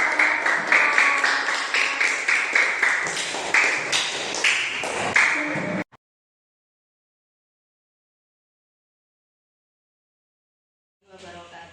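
A group of teachers at an academic coaching and supervision session in Indonesia claps in a steady, brisk rhythm for about six seconds. The clapping then stops dead, leaving silence until a brief voice comes in at the end.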